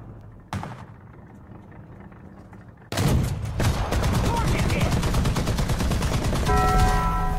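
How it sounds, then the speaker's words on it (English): A .50 caliber machine gun on an M8 LAC light armored car fires in a tank video game, opening with a single sharp report, then a loud sustained rapid burst of rhythmic automatic fire for several seconds. "it also gets a 50 cal machine gun, which is very good for penning the light armor on tanks"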